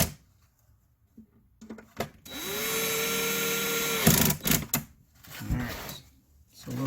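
A power driver with its clutch set low tightens bolts on a lawnmower in a crisscross pattern: one sustained whirring run of about two seconds, then short bursts and clunks of handling, close by with no talking.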